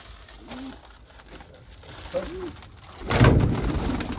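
A few soft coos from black white-tailed and red-pied Mykolaiv pigeons rise and fall close by, scattered over a quiet background, followed by a burst of rustling noise.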